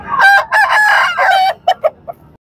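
An Aseel rooster crows loudly and close at a Lahore poultry market, one long drawn-out call followed by a few short clucks, with no talk over it.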